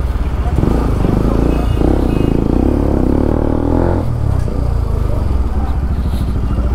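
A motorcycle rides through a busy Sunday market, its engine loud and close with clattering road noise, then the engine settles lower as the bike comes to a stop.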